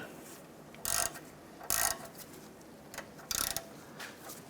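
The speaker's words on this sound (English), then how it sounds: "Let's tighten up the bolt here on our front bracket." A ratchet wrench tightens a bolt on the front engine mount bracket of a 1994-2004 Chevy S10, making several short bursts of clicking, close and fairly quiet, separated by pauses.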